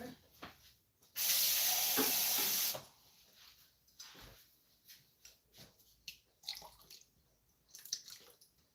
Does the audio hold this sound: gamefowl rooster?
no